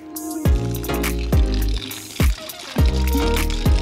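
Water gushes from the pipe of a homemade, electricity-free pump with an air leak, coming in loud, gurgling surges about once a second, close up.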